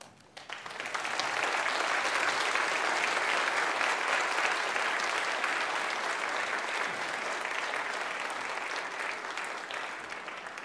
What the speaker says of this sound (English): give them a big round of applause and a big cheer